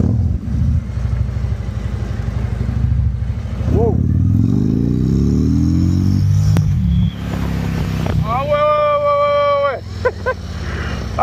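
Harley-Davidson motorcycle rides in first gear, a deep, loud close-up engine rumble that swells and settles as it pulls away, with a rider speaking over it.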